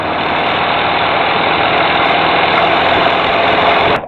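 A SportAir USA Savage Outback light sport aircraft with a 180 HP engine roars steadily and loudly, a dense continuous drone that holds through the whole stretch before cutting off abruptly at the very end.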